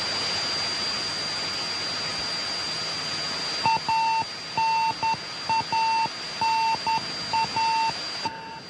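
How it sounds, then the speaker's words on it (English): A radio beacon signal received from a Soyuz spacecraft during descent toward landing beeps in irregular short and longer tones, like Morse code, over a steady noisy radio hiss. "the sound you hear is a radio beacon signal that is being received from the Soyuz"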